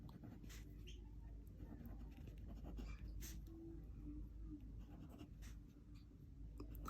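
A pen writing a formal letter by hand on paper, faint continuous scratchy strokes and light taps under a steady low background hum, close but quiet, with no clear talking.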